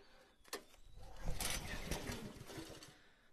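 A small gas engine, choked after refusing to start, coughs and sputters in a short ragged burst with a few sharp pops, turning over unevenly close by, with no speech.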